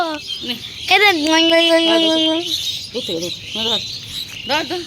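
Birds, including pigeons, chirp and call repeatedly nearby on a rooftop in the evening, with one long, clear whistled note among shorter tweets, and people talk at times in the background.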